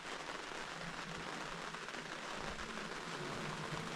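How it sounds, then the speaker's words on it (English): Rain falls steadily at a remote off-grid Alaskan building site, a dense even hiss of drops on surfaces at constant moderate level without voices. "it just started raining again."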